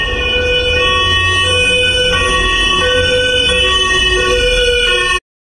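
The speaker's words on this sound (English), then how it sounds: "Ambulance." An ambulance siren wails close and loud, its tones holding steady without a break for about five seconds, with no voices over it.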